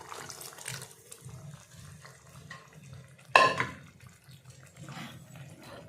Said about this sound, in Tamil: இப்போ நாம் எடுத்து வச்சுருக்க தண்ணியை கொஞ்சம் அதில் இன்னும் கொஞ்சம் சேர்த்துடலாம்.